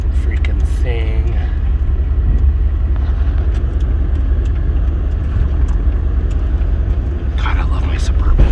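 Chevrolet Suburban driving up a rough quarry road, heavy low engine and tire rumble with jolts and rattles from the uneven ground, loud and continuous, with someone talking over it at times.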